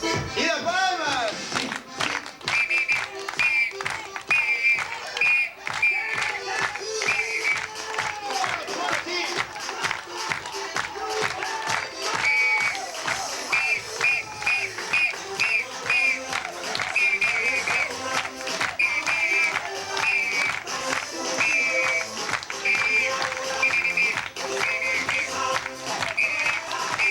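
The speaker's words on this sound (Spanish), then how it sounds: "¡Aplausos para el señor por la palma" An audience at a festive Peruvian tamboya gathering claps in a steady rhythmic beat for a long stretch, under music and a voice calling out.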